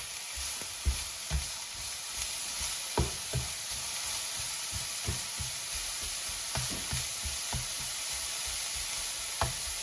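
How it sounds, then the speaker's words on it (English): Carrots sizzle and crackle steadily in oil in a pan, with occasional clinks and scraping from stirring. "So now the carrots are sizzling."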